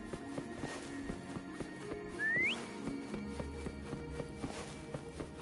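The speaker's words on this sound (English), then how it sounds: "Try whistling." A rising two-note whistle calling a companion in the video game Wuthering Waves, heard once near the middle over a steady game soundscape with footstep-like ticks.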